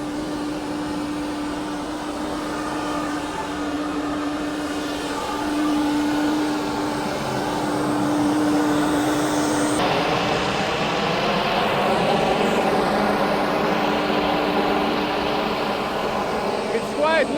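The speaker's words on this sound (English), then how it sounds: "It's quite noisy here because of the APU noise." Inside a Fokker 100 cockpit, the auxiliary power unit drones steadily with a faint whining tone, loud and continuous throughout while a voice talks over it.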